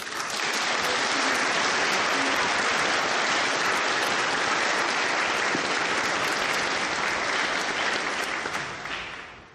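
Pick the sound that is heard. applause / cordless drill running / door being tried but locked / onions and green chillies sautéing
applause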